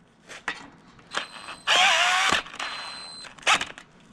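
A power drill drives 2-inch screws into deck chair wood in short bursts, with one longer whirring run in the middle and brief spurts before and after, close by and alone.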